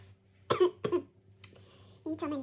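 Two short, harsh coughs come close together from a nearby person, followed by a brief throat sound and then a voice speaking.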